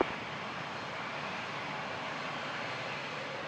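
An Airbus 319 on short final to land, a steady broadband engine roar that holds even and constant from start to finish, moderately loud and continuous with no voices.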